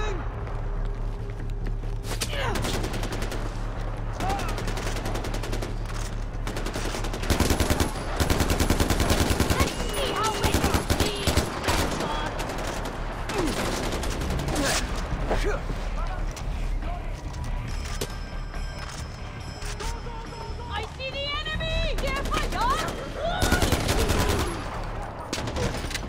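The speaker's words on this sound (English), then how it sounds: "Where's that gunfire coming from?" Bursts of rapid gunfire in the video game Far Cry 4, machine-gun rattles and scattered single shots, over a constant low hum, with footsteps and short mechanical clicks between volleys.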